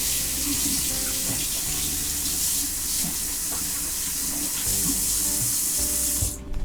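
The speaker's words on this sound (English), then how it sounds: "So let's rinse this off." Dirty produce is rinsed under a running kitchen tap, a steady close rush of water that carries on without a break and cuts off abruptly near the end.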